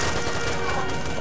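Gunfire in the online survival game Arma 2 DayZ Origins mod on Salvation Island, a steady dense burst of shots filling the whole moment, loud and continuous.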